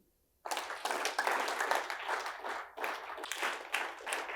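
A seminar audience bursts into clapping as a send-off, starting abruptly after a brief silence and continuing as dense, sustained applause from many people that briefly dips and then swells again.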